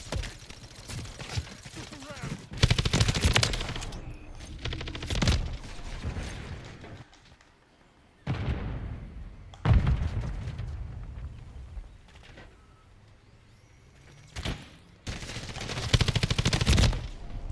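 Gunfire in Call of Duty Modern Warfare III with a Kastov LSW light machine gun, loud bursts of shots alternating with quieter gaps and scattered game sounds, with voices talking in places.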